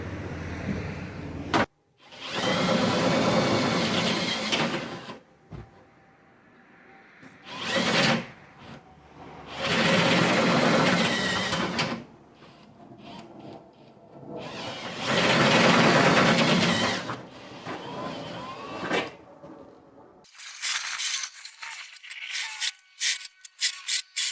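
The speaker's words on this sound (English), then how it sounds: "All holes are now drilled out to 16mm apart from this one" Drill boring 16mm holes through the body of a Mitsubishi Triton to fit a Safari snorkel, heard in several loud, close bursts of grinding whine separated by pauses and clunks, with no talking.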